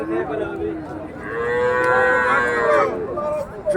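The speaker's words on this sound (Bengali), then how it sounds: "দর্শক এখানে একটা ফিজিয়ামের গরু দেখাচ্ছি" A Friesian cow at Raniganj cattle market, Ghoraghat, moos loudly and close by in one long, drawn-out low, ending with a short grunt.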